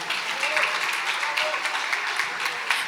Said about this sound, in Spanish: Aplausos para Gema, por favor.